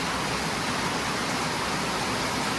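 Steady, dense hiss of rain pouring down, continuous and even throughout with no other sounds standing out.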